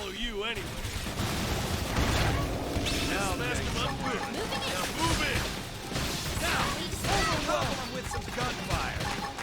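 Rapid gunfire and crashing impacts fill a battle in the video game Xenoblade Chronicles X, dense and continuous under layered game music and effects, with a voice talking over it.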